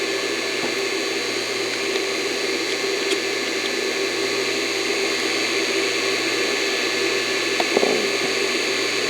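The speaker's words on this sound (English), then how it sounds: "We are going to grind" Surface grinder working a steel block, a constant loud whining drone with steady broadband hiss throughout and a couple of faint knocks, no voices.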